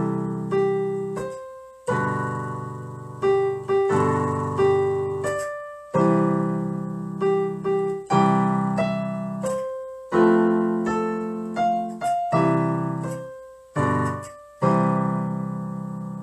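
Piano chords struck with the right hand in a pop chord progression, each chord ringing and decaying before the next, in a steady, evenly spaced sequence with no voices.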